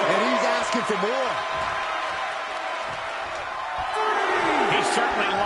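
Large wrestling arena crowd in WWE 2K22, a steady roaring wall of cheers and whoops throughout, loud and continuous, with a commentator talking over it.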